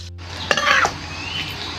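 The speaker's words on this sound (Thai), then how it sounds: "เราจะเอาลงไป เคี่ยวในกระทะครับให้น้ำเหนียว" A utensil scrapes and stirs sauce in a pan over a low, steady sizzle as it simmers down to thicken; a brief clatter near the middle, otherwise quiet cooking sounds.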